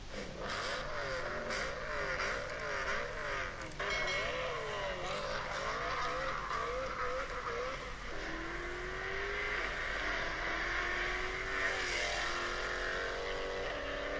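German V8s, a BMW E92 M3 and a Mercedes-AMG W204 C63, roar loudly and continuously, with engine pitch rising and falling through hard revving and acceleration. No voices are heard.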